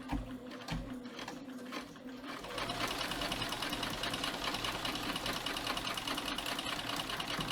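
A sewing machine bastes an armhole, starting with a few short stitching bursts and then running in a steady, continuous drone, fairly quiet and close, with no talk.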